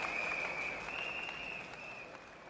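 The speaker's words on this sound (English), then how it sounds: "Let's give him a big round of applause, everybody" A crowd at an outdoor lunchtime political rally in Singapore applauds an arriving guest, a soft, distant wash of clapping over a steady tone, gradually fading.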